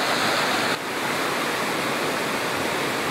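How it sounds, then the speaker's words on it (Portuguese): Waterfall pouring down between rocks at the Antônio Monteiro cascade near Pocinhos do Rio, a steady, loud, broadband rush of falling water that fills the scene from start to finish with no voices. "agora eu vou mostrar para vocês como que essa cachoeira cai por entre essas pedras"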